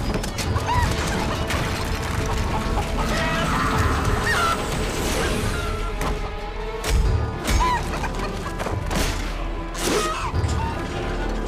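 A chicken clucks and squawks in Fable 3 amid a busy game soundscape, with repeated bird calls over a steady background of ambient noise and music.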